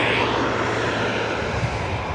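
Ryanair airliner arriving at Dublin Airport from Luxembourg, a steady, broad engine roar heard from a distance, holding level throughout with no talk.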